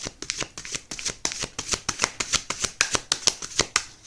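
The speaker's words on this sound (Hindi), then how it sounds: "लास्ट शफल करते हैं।" Tarot cards being shuffled by hand in a quick run of crisp riffling flicks, steady and close, with no talk.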